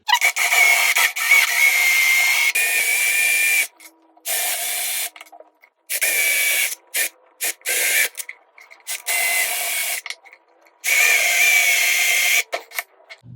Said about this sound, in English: Now just use your drill, and wherever there's a mark, drill a hole about 1/2 inch deep.